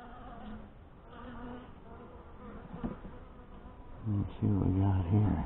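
Honey bees from a Saskatraz colony buzz steadily around an open hive during an inspection, a close, continuous hum that swells louder near the end.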